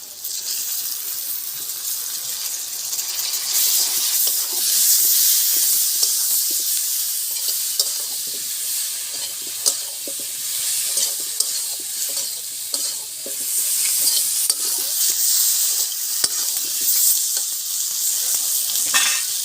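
Chopped tomato fries in a pan for a Bengali katla kalia, a fish curry with small potatoes. A steady, bright sizzle runs throughout, broken by frequent stirring scrapes, with no one talking.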